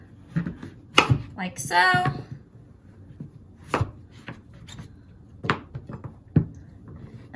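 Kitchen knife chopping through a thick-skinned Hubbard squash on a board, a few sharp, close thuds and cuts spaced irregularly, with a person talking between them.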